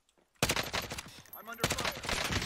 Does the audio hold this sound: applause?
no